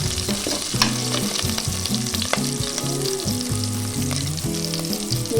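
Frying and stirring in a cooker during preparation of Kongunadu-style chicken gravy, with a steady close sizzle and repeated scraping strokes running continuously, no voices.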